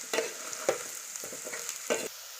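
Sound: potatoes with curry leaves frying in a pan

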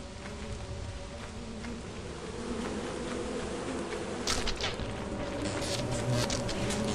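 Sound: bees buzzing from beehives in Lethal Company video game

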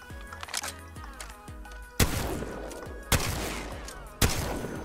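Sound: gun firing in the video game Apex Legends

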